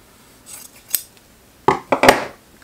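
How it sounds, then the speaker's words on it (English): Scissors snipping through a quilt fabric strip: a couple of quiet early snips, then three loud close cuts in quick succession near the end. "so I'm gonna go ahead and snip this"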